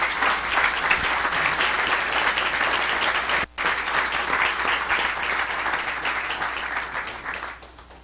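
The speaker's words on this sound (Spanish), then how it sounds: "Les pido un fuerte aplauso para los panelistas." An audience at a democracy event closing session in Lima gives the panelists a loud, sustained round of applause that holds steady with a brief dip, then fades toward the end.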